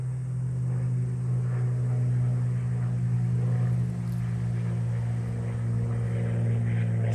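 A propeller airplane drones overhead outdoors as a steady, continuous low hum, moderately loud and unchanging over several seconds with no talking.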